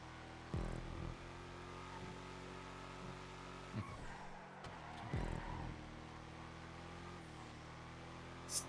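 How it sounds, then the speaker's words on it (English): Supercharger whine from a car in GTA 5, a steady engine drone and high hum held throughout, broken by a few brief thumps and bursts. "You can like actually hear like the supercharger or whatever whine on this thing."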